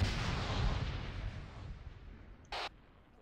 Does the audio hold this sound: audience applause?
no